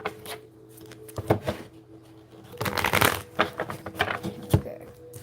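A deck of playing cards being shuffled, with a few short riffling bursts and card taps at close range, separated by quieter gaps.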